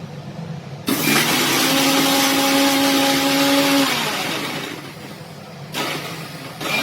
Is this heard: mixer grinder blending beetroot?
yes